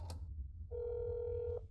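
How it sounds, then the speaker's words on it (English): Phone ringing in the video game That's not my neighbor: a single steady electronic ring tone with harmonics, sustained for about a second after a brief click, over a low background hum. "See if anyone answers the phone."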